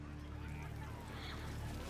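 A fat bird honks and squawks in Baldur's Gate III, faint and somewhat muffled over a low background hum, repeating in a short run.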